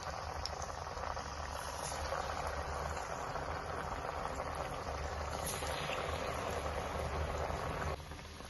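Drumstick leaf vadas fry in hot oil, giving a dense, steady crackling bubble that stays even and fairly close throughout, easing slightly near the end.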